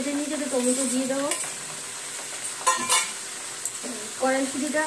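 Vegetables and tomato sizzle in hot oil in a wok, with a steady frying hiss and repeated scraping and clinking of a spatula as the food is stirred.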